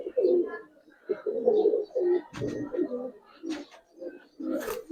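Pakistani high flyer silver pigeons, an aluminium-silver hen and a silver cock, coo in repeated low throaty bursts close by, with brief rustling between phrases.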